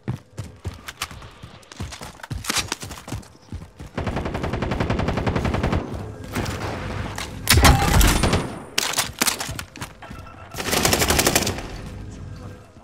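Rapid automatic gunfire in Call of Duty: Warzone, including a FAMAS rifle, with dense bursts, scattered single shots and thuds across the clip, loud and close, with no talk.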